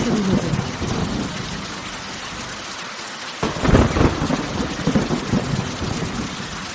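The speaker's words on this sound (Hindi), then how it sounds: "आसमान में काले बादल छा गए, तेज हवाएं चलने लगी और कुछ ही देर में मूसलाधार बारिश शुरू हो गई।" Heavy rain pours in a constant hiss, and partway through a deep thunder rumble breaks in before the downpour carries on, a storm sound effect with no voices.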